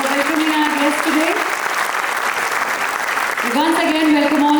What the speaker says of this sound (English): A round of applause for all our children.